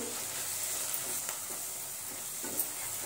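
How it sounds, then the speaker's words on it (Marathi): Coriander powder and other spices sautéed in a pan for mushroom masala, a faint steady sizzle with a few soft stirring scrapes, close but quiet. "धनिया पावडर 1 चमचा आणि सर्व मसाले आपण परतून घेऊ"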